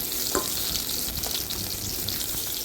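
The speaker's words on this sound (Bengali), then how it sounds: "দিয়ে পাবদা মাছটাকে ভেজে নেব। দেখো ভাজা হচ্ছে" Pabda fish coated in a rice flour and gram flour batter with spices frying in hot oil, a steady dense sizzle with a few brief clicks and spatters, close and continuous with no talking.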